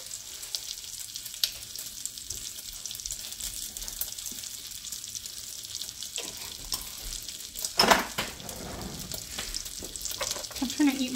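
Butter sizzles in a hot pan while cooking, giving a steady frying hiss with light stirring and scraping. A louder crackling flare comes near the middle, and there is no talk.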